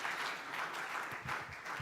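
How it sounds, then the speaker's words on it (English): Audience at a plenary session of a conference on business and human rights giving a brief round of applause, a soft, even patter of clapping heard from a distance for under two seconds. "just a quick round of applause for my colleagues, Sagita and Pini."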